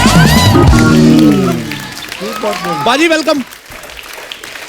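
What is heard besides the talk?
studio audience applause welcoming Akshay Kumar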